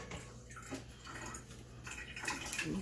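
Water poured from a tap into a bowl sitting on a kitchen scale for no-knead bread dough, a quiet running trickle with a few splashy surges, no speech.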